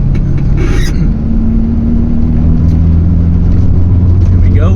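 Engine of a vintage VW T3/T25 van on the A537 Cat and Fiddle road, a loud, steady low drone from inside the cab as the driver drops a gear, with a voice talking over it.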